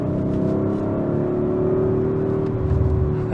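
An Audi RS5 Sportback accelerating while merging onto a highway on a hot day, a steady engine drone and road roar with a slowly rising pitch, close and continuous with no voices.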